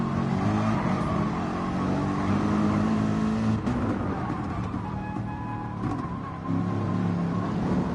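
Race cars roar around a track in a racing video game. Several engines drone and rev continuously, with overlapping pitch changes as cars close up and pull away.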